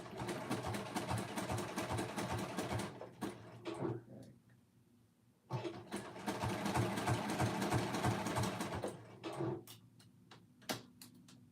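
A domestic sewing machine backstitches at the start of a seam, running in quick bursts with short pauses and clicking ticks between, close and fairly quiet.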